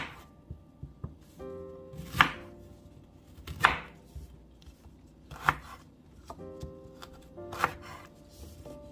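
A knife chopping unpeeled ginger on a board, about five crisp, distinct cuts spaced a second or two apart, close and fairly quiet, with faint handling sounds between them.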